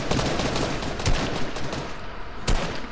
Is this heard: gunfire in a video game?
yes